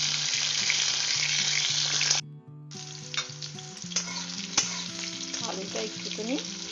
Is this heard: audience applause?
no